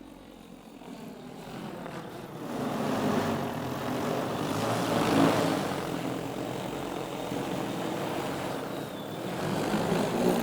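A seed-spreading agricultural drone flies back home over a field, its steady propeller drone swelling a little louder midway and holding on, with wind and no talk.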